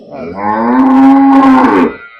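A freshly calved first-time cow lows once in a long, loud, sustained moo lasting about two seconds, close by and alone without talk.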